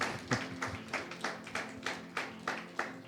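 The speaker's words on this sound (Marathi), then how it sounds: "जरा टाळ्या वाजूयात," A church congregation claps in steady, even rhythm, about three claps a second, with sharp strikes carrying over a low room murmur and no voices.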